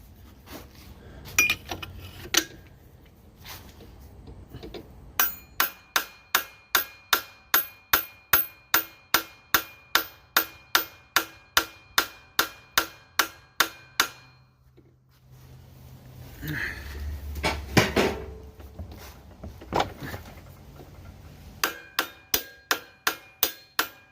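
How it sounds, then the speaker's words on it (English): A hammer knocks an oil seal off the PTO-side shaft of a Kohler engine: after a few scattered taps, sharp metallic blows ring out in a steady, even rhythm, pause briefly amid some clatter, then resume at the same pace. "So let's see if we can knock it back and forth a bit to get the rest of it off."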